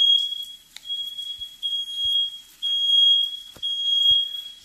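A sensitive kitchen smoke alarm sounds repeated shrill, steady electronic beeps in long bursts while keto meals such as pork chops are being cooked, with no voices present.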